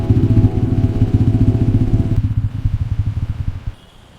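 A motorcycle engine idles with a rapid, pulsing putter close by at a roadside traffic check in Howrah, then cuts off near the end, leaving near silence.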